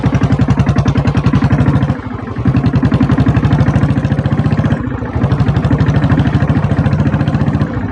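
A diesel Royal Enfield Bullet motorcycle with kick and self start runs at a steady, loud thumping idle close by, its rapid even pulses dipping briefly twice before picking back up.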